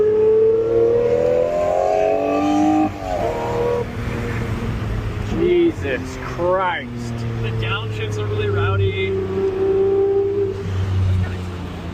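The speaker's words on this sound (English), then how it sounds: "It's a crazy sounding car." A loud sports car engine drones and revs continuously, rising and falling in pitch, with people talking excitedly over the roar.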